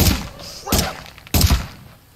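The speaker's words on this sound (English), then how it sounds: "Flashbangs! Holy crap!" Flashbang grenades detonating in a video game, two loud, heavy bursts about half a second apart, each a sharp thump followed by a brief ringing decay.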